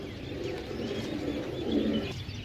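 Several pigeons, including golden and slate-colored birds, coo in low, soft, overlapping murmurs, a steady throaty burble close by with no voices present.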